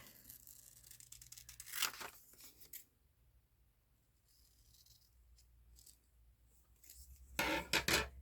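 Scissors cut through outdoorsy fabric in short crisp snips and rustling rasps, close but quiet, with a pause in the middle and a louder flurry of cutting at the end.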